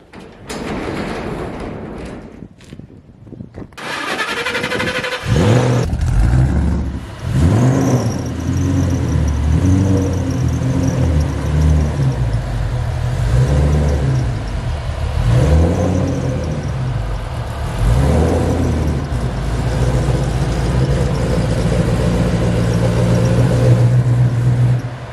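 A car engine starts after a few clunks and then rolls nearby into a garage, a steady engine drone with gentle rises as it creeps forward.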